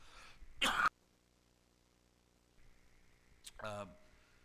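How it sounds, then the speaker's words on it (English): A single sharp cough bursts out near the start, followed later by a short throat-clearing rasp, with quiet room hum in between. "I'm going to cough here in a minute, and it goes in the microphone"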